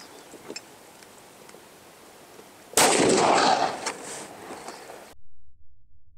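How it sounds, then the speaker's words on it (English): A single gunshot fired at a homemade bullet-resistant glass panel, a sudden loud broadband blast with a dense ringing tail lasting about two seconds before an abrupt cut, preceded by a quiet room-tone background. "Okay, there's our shot."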